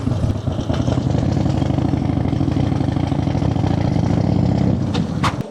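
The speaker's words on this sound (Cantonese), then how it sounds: "即係你而家呢架電單車嗰啲聲" A Harley motorcycle engine idles close by with a loud, steady, throbbing low rumble that holds for the whole stretch, then revs briefly near the end.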